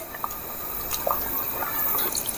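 Water poured into the sugar syrup of cham cham sweets, a soft splashing and trickling with scattered drips, close and continuous over a faint background hiss.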